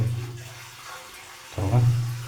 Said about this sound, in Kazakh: Ашамыз мен пешке осылай су келіп